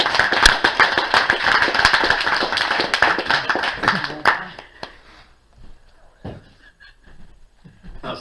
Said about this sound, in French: Faut applaudir un petit peu.